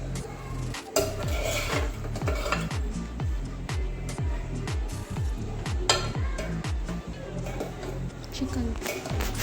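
Chicken fried rice is stirred and tossed in sauce in a pan, giving steady rhythmic scraping and clinking of a utensil against metal over a soft sizzle, close and fairly loud, with talk over it.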